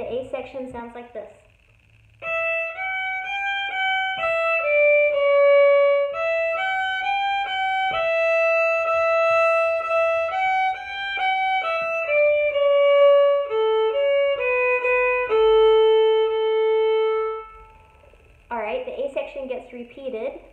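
Melodic A section of the fiddle tune Old Joe Clark, a steady stream of clean single notes played alone, with brief talk just before and after.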